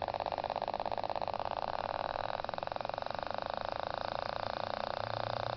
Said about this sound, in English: this is a brushless DC motor